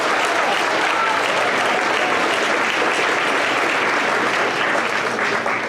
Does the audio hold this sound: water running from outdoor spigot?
no